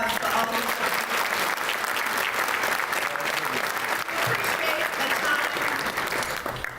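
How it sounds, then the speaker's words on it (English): A large audience at a DuPage County business luncheon applauds steadily, a dense unbroken wash of clapping that carries on for several seconds without letting up. "Let's give a round of applause for all these people."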